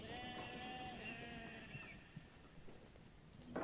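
Sheep bleat a few times in the distance over a low, steady outdoor background.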